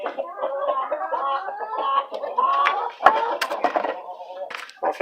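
Hens clucking in a quail and chicken coop at evening, a close run of busy, overlapping clucks and squawks with a few sharper cries, alongside some faint background noise.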